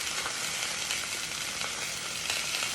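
Seafood sizzles and fries in a pan, a steady broadband hiss with small pops throughout, close and even, with no talking.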